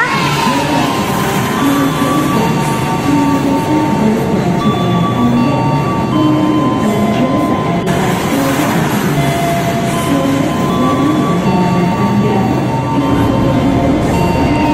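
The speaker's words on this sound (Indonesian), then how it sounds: "ternyata ada kereta api lagi yang menyusul teman-teman" A train rumbles steadily past nearby, continuous rolling noise with faint squeals and rattles, no voices.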